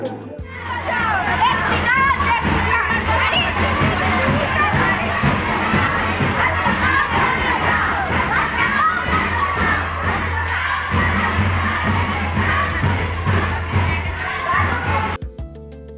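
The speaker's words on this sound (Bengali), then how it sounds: "পদযাত্রায় ছাত্রছাত্রীরা পরিবেশ প্রকৃতির বিষয়ে নীতিসূচক স্লোগান ও ইস্তেহারের মাধ্যমে পথচলতি মানুষদের মধ্যে সামাজিক সচেতনতার আবেদন জানায়" Students from Shyamnagar schools chant environmental slogans on a street march: a loud, continuous mass of young voices shouting in unison, with crowd noise throughout that drops away at the end.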